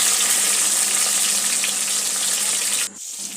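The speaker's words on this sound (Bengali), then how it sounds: "টমেটো কুচিটা আমি আলুর মধ্যে দিয়ে খুব ভালো করে ভেজে নিচ্ছি।" Chopped tomato sizzles with potatoes in a pan, a dense steady hiss of frying that runs loud and unbroken before cutting off abruptly near the end.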